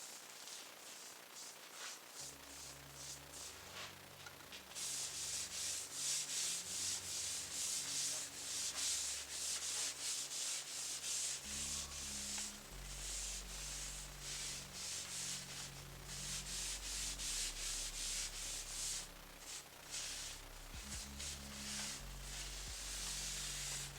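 A rag rubs wood stain across a countertop board for a kitchen pass-through with steady, close scrubbing strokes in a continuous rhythmic swish, alone without talk.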